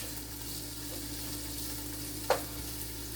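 Smoked bacon frying for ragu bolognese, a faint steady sizzle and crackle with a low hum beneath and a single soft scrape of stirring near the end.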